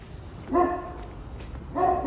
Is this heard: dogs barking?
yes